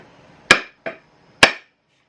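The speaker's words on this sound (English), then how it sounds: "First thing we want to do is seat our head with a vintage hammer." Three sharp metallic strikes of a vintage hammer seating an axe head onto its wooden handle, the first and last loud and ringing, the middle one lighter, spaced unevenly and close up with no talk.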